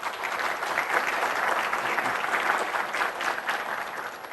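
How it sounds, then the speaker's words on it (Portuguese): Enthusiastic audience applause fills a conference hall at a 2013 technology event, steady sustained clapping from many hands lasting several seconds without speech over it. "Aplausos para ele."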